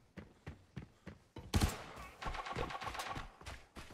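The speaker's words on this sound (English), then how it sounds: "Gunshots straight ahead." Gunfire in the game Arena Breakout: spaced single shots at first, then a loud close burst and a fast rattling stream of automatic fire.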